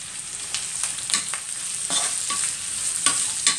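Green chillies, curry leaves and finely chopped ginger sizzle in a pan for egg curry, a steady frying hiss broken by several sharp scraping stirs of a spoon, close and alone with no voices.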